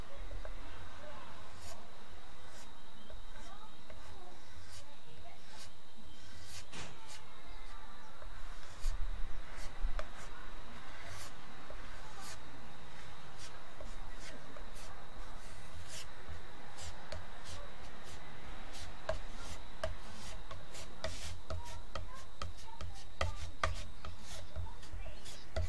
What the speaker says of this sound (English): I'm just going to apply it with this small spatch first.